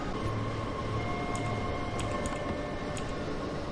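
Steady rhythmic clatter of a New York double-deck commuter train rolling over rail joints in Train Sim World, a continuous close rumble with faint clicking accents throughout.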